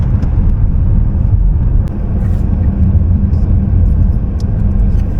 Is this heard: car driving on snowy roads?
yes